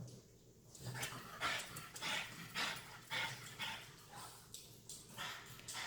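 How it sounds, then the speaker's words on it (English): Excited puppies yipping and whimpering in quick bursts, fairly close, with short high-pitched barks repeating throughout. "Crazy puppies."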